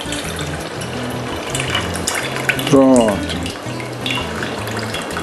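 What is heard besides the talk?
tap water rinsing mushrooms in sink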